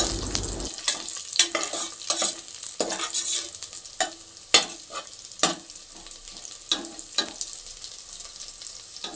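Chopped green chillies sizzle in hot oil for a country-chicken curry, with repeated sharp scrapes and clinks of a spoon stirring the pan over a steady low fry, close and alone without talk.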